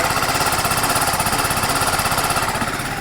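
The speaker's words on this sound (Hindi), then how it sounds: "आइए अब इस बाइक को स्टार्ट करते हैं और आपको इसका इंजन साउंड, एग्जॉस्ट नोड भी सुनवाता हूँ।" A TVS Apache RTR 310 motorcycle engine idles with a steady, rapid exhaust pulse, loud and close, running alone throughout.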